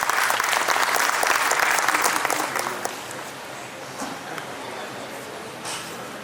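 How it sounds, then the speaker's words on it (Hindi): Audience applause at a ceremony as two singers are invited to perform the national song Vande Mataram; loud, dense clapping for under three seconds, then fading into scattered claps and quiet murmur. "एक बार जोरदार तालियों के साथ"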